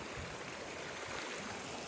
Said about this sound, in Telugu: You can see the flowing water, the flow of water.